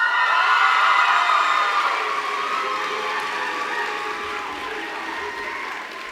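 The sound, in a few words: graduation ceremony audience applause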